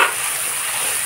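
A turmeric and spice paste made with a little water hits hot oil and sizzles loudly and steadily. The hiss is close and bright and carries on without a break.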